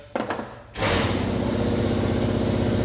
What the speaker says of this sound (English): And air compressor kicks on